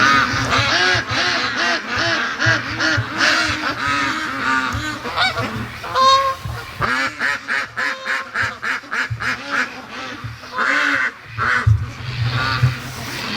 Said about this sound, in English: they heard the Canada geese coming